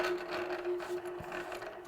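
A longarm quilting machine stitches slowly along an earlier stitch line on a quilt border, a steady low motor hum with faint rhythmic needle ticking and no talk.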